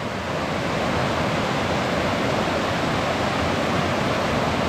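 Two sizable branches of Multnomah Creek meet in the forest, their combined flow making a loud, steady broadband rush of water with no breaks.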